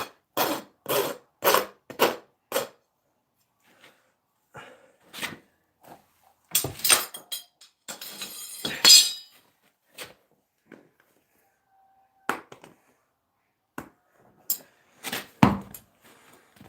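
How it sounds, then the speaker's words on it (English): A farrier files the burrs off the nail clinches on a new shoe on Rush, a Clydesdale Quarter Horse cross, in short scraping bursts separated by pauses, each rasp stroke close and distinct. "all I'm going to do here is just take the burrs off the clinches"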